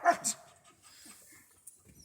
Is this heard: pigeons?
no